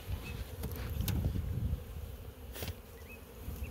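A dense, continuous hum of honey bees buzzing from an opened beehive, close and fairly quiet, with a couple of faint clicks and knocks over it and no talking.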